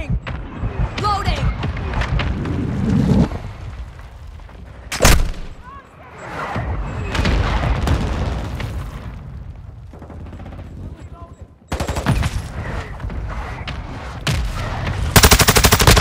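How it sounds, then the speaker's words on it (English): Gunfire and sharp explosions from an incoming mortar strike in Call of Duty: Modern Warfare II multiplayer, with loud bursts, a heavy boom and sudden impacts, mixed with game voice callouts and chatter. "Hostile mortar strike incoming."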